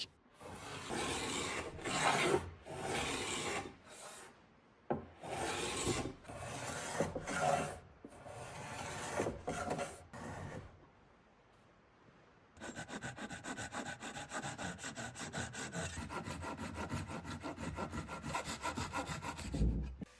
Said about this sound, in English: I will start by planing down the hinges a little bit